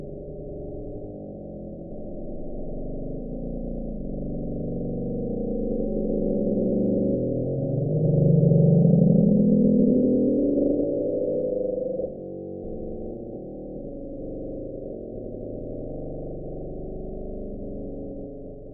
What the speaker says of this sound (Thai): เสียงเดอะบลูฟเนี่ย เป็นเสียงที่สร้างความสงสัยให้กับผู้คนทั่วโลกรวมถึงนักวิทยาศาสตร์ด้วย